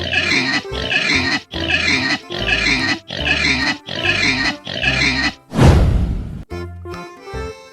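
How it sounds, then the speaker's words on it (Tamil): A pig grunts and oinks in a run of about seven rhythmic, loud, close grunts, then gives a harsh noisy burst and a squealing tail. "இதோ பன்றியோட சத்தத்தை கேளுங்க."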